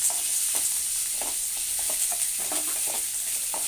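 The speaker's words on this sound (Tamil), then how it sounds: "கொஞ்சோண்டு கருவேப்பிலை கொத்தமல்லி போட்டு நல்லா வதக்கிக்கணும்." Onion, curry leaves and coriander sauté in a pan, a constant hissing sizzle with intermittent scraping strokes of a spatula, close by and without voices.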